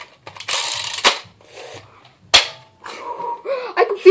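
A toy gun fires with a few sharp, loud cap-like pops spaced apart, mixed with handling clicks and rustling, while people talk close by.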